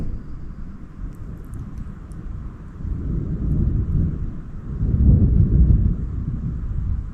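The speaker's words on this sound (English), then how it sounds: "I just heard my my first thing of thunder." Low rolling thunder from a thunderstorm at a campsite, a deep rumble that swells around the middle and again near the end, moderately distant under steady rain and wind noise, with no talking.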